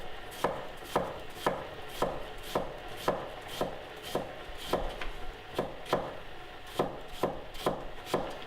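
A knife chops an onion on a cutting board, with sharp, evenly spaced thuds repeating about twice a second. The board is close by and there is no talking.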